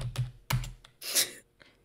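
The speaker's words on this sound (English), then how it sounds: "I had fun making those keyboard sounds" Bursts of computer keyboard typing, made as a sound effect, come in three quick clusters of key clacks followed by a fainter tap, close and clear with no talk.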